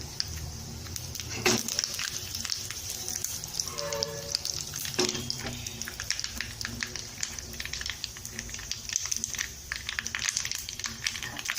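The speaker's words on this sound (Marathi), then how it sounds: "मस्त त्याला फोडणी येऊ द्यायचं" Spices and curry leaves crackling and sizzling in hot oil for a tempering, a steady close frying hiss with scattered pops throughout.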